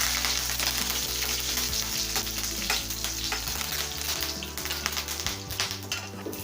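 Curry leaves, cumin and urad dal sizzle and crackle steadily in hot oil for a Tamil egg gravy, a dense continuous frying hiss with a low background hum underneath, loud and close throughout.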